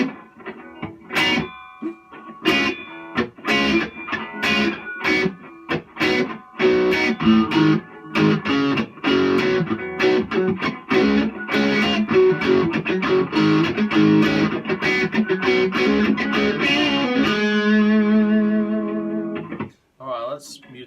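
Squier Jaguar electric guitar played palm muted with reverb switched off: choppy, distorted chugging notes in quick bursts, loud and close, ending in a sustained ringing chord that cuts off sharply.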